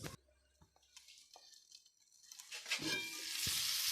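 Mixed vegetables with spices for pickle are stirred and cooked in a pan, with a few utensil clinks and scrapes early on, then a rising, close sizzle that grows louder toward the end.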